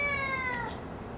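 A nervous cat at an animal shelter check-in gives a single short meow that falls in pitch, close and fairly clear, with no voices.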